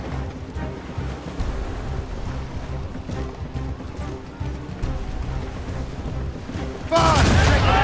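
Naval battle in the PC game Assassin's Creed Rogue: cannon fire and ship noise over rolling sea, with muffled shots through the middle and a sudden loud, close burst near the end, while voices call out over the action.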